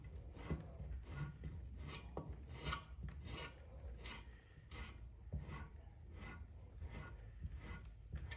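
A surform rasp shaves Bondo body filler on the sides of a 1958 Harley Panhead chopper fuel tank, giving quiet rhythmic scraping strokes about every half second, each a short gritty rasp.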